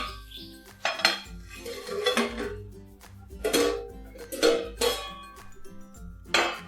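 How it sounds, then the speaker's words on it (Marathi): A lid set on a cooking pot of kande poha in a home kitchen, sounding as a series of metallic clinks and clatters of pot and utensil spread over several seconds, fairly close, with no talking. "त्याच्यावर 5 मिनिट झाकण ठेवायचे आहे।"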